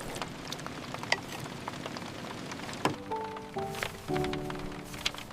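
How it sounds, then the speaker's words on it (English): Rain patters steadily with scattered sharper drops close by, and a soft humming tone joins partway through. "Rain makes the road feel calm."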